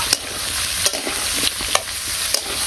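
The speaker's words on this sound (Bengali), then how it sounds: "কচু তেলে নিয়ে একটু ভালো ভালো করে।" Taro pieces fry in oil with a constant close sizzle, while a spatula scrapes and stirs about every half second; no talking is heard.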